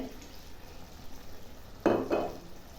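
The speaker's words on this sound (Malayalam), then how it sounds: "ഒരു ടേബിൾ സ്പൂണോളം വെളിച്ചെണ്ണ ഒഴിച്ചേ" Coconut oil hits a pan of simmering sardine curry with a sudden loud sizzle burst that fades in two surges over about a second, following quiet background stirring.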